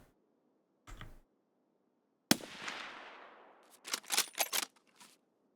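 Gunfire in Escape from Tarkov: a single muffled shot, then a sharp crack with a long decaying echo, followed by a quick cluster of sharp bursts, all against quiet, no voices.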